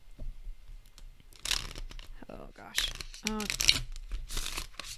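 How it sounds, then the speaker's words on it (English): A stiff tarot card deck, slightly larger than standard, is riffled and shuffled in quick crisp bursts of flapping, crackling card noise. Brief spoken exclamations come between the shuffles. "It feels like I'm shuffling actual photographs."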